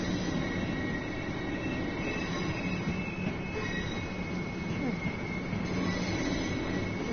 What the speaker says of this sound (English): A train from Seaford is going to London Victoria.